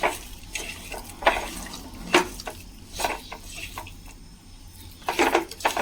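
Spices are rubbed by hand with coconut oil, chili and salt in a kitchen, making soft, irregular squishing and scraping close by, with occasional clicks from the dish and no speech.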